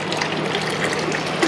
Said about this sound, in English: We just had water coming out the engine.